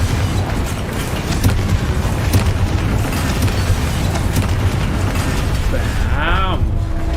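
A Confringo spell explodes in Hogwarts Legacy as a loud, rumbling blast with mechanical clatter, sustained for several seconds. A brief voice is heard near the end.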